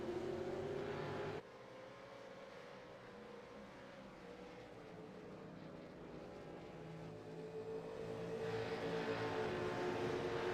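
V8 touring cars running nose to tail in a Supercheap Auto East Coast V8s race at V.I.R., a continuous engine drone that dips briefly and then swells louder as the pack closes in near the end.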